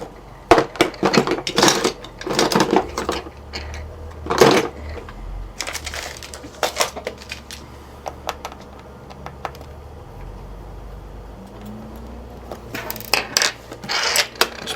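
A screwdriver working on a plate of a Sony Vaio laptop, with scattered clicks, scrapes and metallic taps of the tool and small parts. The bursts come in irregular clusters with quieter gaps between them.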